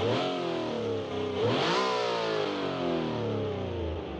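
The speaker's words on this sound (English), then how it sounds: "Listen to that V16." A V16 car engine in a video game revs up, its tone climbing steeply, then holds at a high, buzzing pitch with smooth, continuous roar.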